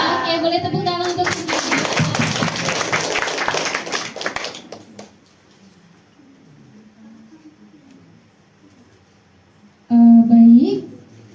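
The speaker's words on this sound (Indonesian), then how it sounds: "boleh tepuk tangan" A small group claps hands at a village meeting in a hamlet, a loud, busy burst of clapping mixed with voices for a few seconds, then quieter room tone before a brief loud sound at the end.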